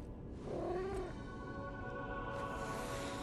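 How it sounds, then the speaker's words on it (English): A cat in the video game Lies of P gives a single short meow, mid-level and close, over steady game ambience and background music. "Hey, it's a cat."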